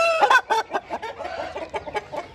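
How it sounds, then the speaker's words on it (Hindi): A Kandahari rooster clucks and squawks in a rapid, irregular series of calls, close and fairly loud, with some scuffling noise underneath as it is caught. "अब ये देखो आंसर ने मुर्गा पकड़ना शुरू किया"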